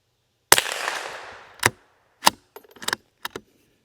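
Sharp, close rimfire cracks from a Savage B22 rifle fired at targets outdoors: one loud shot with a trailing echo, then several quicker snaps and clicks spaced across a few seconds.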